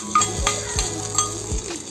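Oil sizzles steadily as garlic and curry leaves fry for a black urad dal chutney tempering, with a spoon scraping and stirring the pan in a few distinct strokes.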